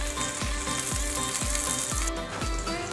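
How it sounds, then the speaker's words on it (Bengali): Green chillies frying in oil in a pan, a steady close sizzle with a regular series of low scraping or knocking strokes roughly every half second, as if stirred. "মরিচগুলো আমি একটু সুন্দর করে ভেজে নিব"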